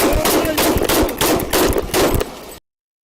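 Rapid bursts of gunshots from police bodycam footage, about six loud, evenly spaced reports in quick succession, close and harsh, ending in sudden silence.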